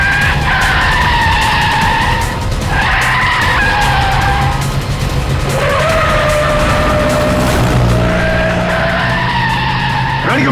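Car tires skid and squeal loudly during sharp turns in a tense chase scene from a CID crime drama, with repeated rising and falling screeches over a steady engine roar.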